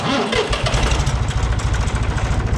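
A tractor engine cranks and catches, then settles into a steady, throbbing idle with a regular low chug.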